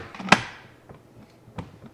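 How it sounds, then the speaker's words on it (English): A drawer slides shut with a sharp thump, followed by a few softer knocks and a second light bump a moment later. "So close the drawer."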